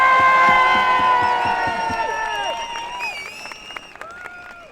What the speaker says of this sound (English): take this opportunity today to give a quick round of applause